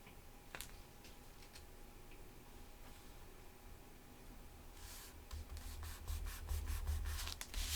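Paper glued onto a handmade outdoors-themed journal is burnished by hand, a soft steady rubbing with light ticks, growing louder and denser near the end.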